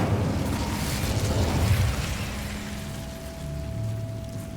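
Incendio fire spell cast in the Hogwarts Legacy video game, a loud whooshing, rumbling burst of flame that roars for about two seconds and then settles into a lower crackling hum with a faint steady tone.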